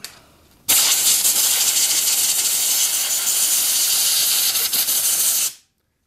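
Mass airflow sensor cleaner sprays from an aerosol can onto a plug connector on a 7.3 Powerstroke diesel, a loud continuous hiss lasting about five seconds and then cutting off abruptly, with no talking.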